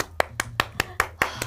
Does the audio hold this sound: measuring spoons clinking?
no